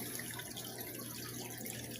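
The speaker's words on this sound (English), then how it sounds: "take out the sponge and squeeze out the sponge" Water sloshing and trickling steadily as an aquarium filter sponge is squeezed out under water while cleaning the filter of a 40 gallon fish tank, a continuous close wash of liquid sound with no talking.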